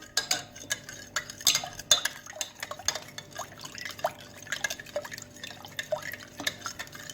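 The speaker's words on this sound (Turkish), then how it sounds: "Ardından mayayı da ilave ederek karıştıralım." Warm milk, sugar and yeast being stirred for pizza dough, a utensil clinking and scraping against the bowl in quick irregular taps, close and fairly quiet, with no talking.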